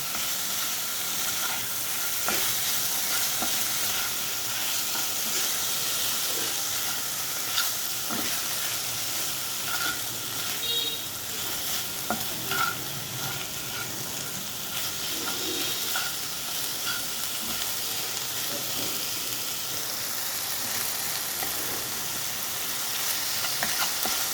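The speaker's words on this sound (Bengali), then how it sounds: "এবার চিকেনটা ভালো করে পেঁয়াজ রসুন আদা টমেটোর সঙ্গে মিশিয়ে নেব" Marinated chicken stir-fries in a pan with onion, garlic, ginger and tomato, a loud continuous sizzle broken by irregular scrapes and stirring clinks, with no voices.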